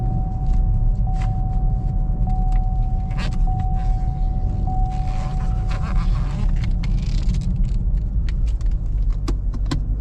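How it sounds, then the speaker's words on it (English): A sports car drives along with a steady low engine rumble and road noise from inside the cabin, with a faint electronic chime and a few small clicks and rattles. "it's always fun driving a sports car"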